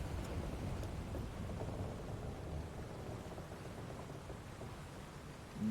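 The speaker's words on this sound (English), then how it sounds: "We're in for a proper storm," Low rumbling thunder and steady rain from a storm aboard a ship's deck in the game Final Fantasy XIV, a soft continuous wash of noise with a faint roll beneath it.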